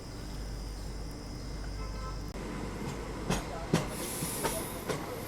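A train crawling onto a loop line near Rani Kamlapati station, a steady rumble and hiss heard from on board, followed by a few distinct wheel clacks over the points.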